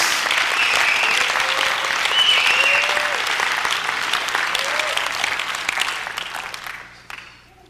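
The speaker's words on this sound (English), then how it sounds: "Clap your hands right there." Audience applause during a Christian leadership teaching session, a steady sustained round of clapping from a large crowd that fades out toward the end, with a few whoops rising above it.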